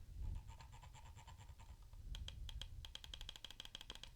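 A Scyrox V8 gaming mouse gives a run of quiet, crisp button clicks at close range. A slower regular series comes first, then after a short pause a faster burst of sharper clicks.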